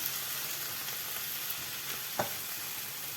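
Chicken and vegetables with cherry tomatoes and their juice sizzling in a pan, a faint, even hiss with one brief utensil tap, quiet and steady, with no one speaking.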